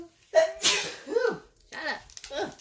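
A single sharp sneeze bursts out close by, followed by brief breathy sounds and a few words of speech.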